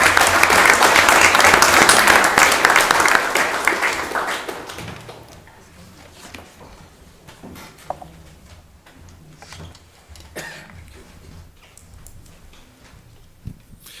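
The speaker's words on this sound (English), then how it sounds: "Another round of applause for our Lewiston leads." Audience applause fills a city council meeting in Lewiston, a loud burst of clapping for about five seconds that fades to scattered claps and faint room noise.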